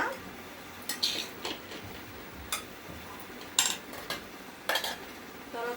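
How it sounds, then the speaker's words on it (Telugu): Gongura chutney and bean curry are served onto a plate, giving scattered faint clinks and scrapes of a spoon against dishes, with a few brighter taps over a quiet room. "తర్వాత గోంగూర పచ్చడి వేసుకుంటున్నాను. తర్వాత చిక్కుడుకాయ కర్రీ వేసేసుకుంటున్నాను."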